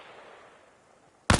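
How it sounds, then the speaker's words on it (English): A single sharp rifle gunshot cracks out loud and close near the end, after a stretch of quiet ambient hiss, in the Arma Reforger tutorial on PS5. "Only this time, lower your stance first, then do your shooting"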